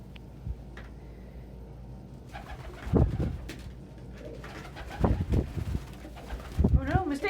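Pet pigeons or doves cooing indoors in soft, low, repeated bursts, with a person talking quietly nearby between the calls.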